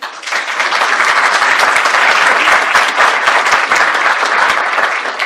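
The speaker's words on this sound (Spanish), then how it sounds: "Un aplauso, por favor." A conference audience gives loud, dense applause that swells in quickly and holds steady as a continuous roar of many hands clapping, then eases slightly near the end.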